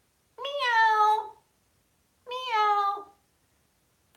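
Two drawn-out, cat-like meows with a pause between them, clear and close in a quiet room, a parrot imitating a cat.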